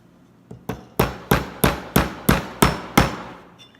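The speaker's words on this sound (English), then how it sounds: "And then I'm gonna use a hammer." A hammer taps a punch to drive a roll pin into a rifle firing pin, giving about nine crisp metallic strikes at a steady, slightly quickening rhythm. Each blow rings briefly, and the first two taps are lighter.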